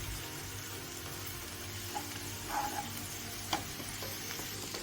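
Chopped ivy gourd (kovakka) sizzles in hot oil in a pan for a Kerala stir-fry. A steady, moderate frying hiss carries on throughout, with a couple of faint clinks and stirring sounds and no talk.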